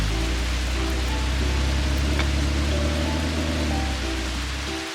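Steady, heavy rain pours down continuously, a dense hiss with a low rumble underneath, fading slightly at the end.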